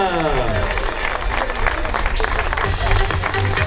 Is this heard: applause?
yes